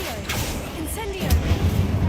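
Incendio, a fire spell in Hogwarts Legacy, bursts with a sudden low boom and rumbling crackle about halfway through, following a voice and some quieter game ambience.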